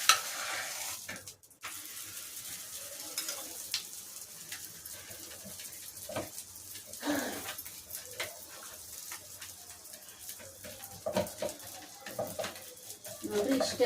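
Holige flatbread fries in oil on medium flame, with a low steady sizzle under scattered clinks of a utensil against the pan, while a dog whimpers faintly nearby and a voice is heard at times.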